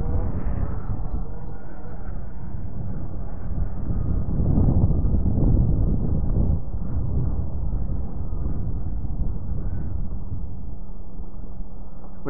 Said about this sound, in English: The wind is actually blowing out over the lake.